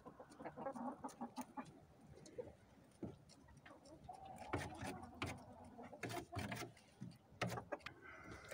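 Chickens cluck and coo in a coop among roosters, a cluster of soft, steady calls close by under a low ambient hum.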